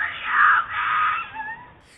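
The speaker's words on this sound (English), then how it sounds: "Blood-curdling screams ring out." A woman screams for help outside a home at night in Florida, captured by a doorbell camera: a long, shrill, wavering cry that fades into a thinner wail, slightly distant and tinny.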